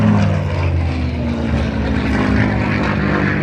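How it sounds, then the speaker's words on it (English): Mark 9 Spitfire propeller fighter with a fixed tail wheel passing at an air show, a loud, sustained engine roar holding steady throughout with no one talking. "Coming in from your right, you have the Mark 9 Spitfire."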